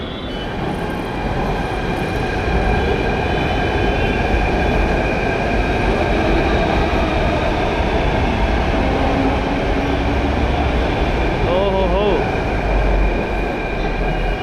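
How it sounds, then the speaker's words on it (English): A 4-coach BEML-made Jaipur metro train pulls into a station platform, a steady loud rumble with a brief wheel squeal near the end, continuous throughout and with no talk over it. "And there, our train is also coming."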